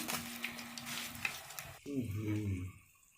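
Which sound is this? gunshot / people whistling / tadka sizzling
tadka sizzling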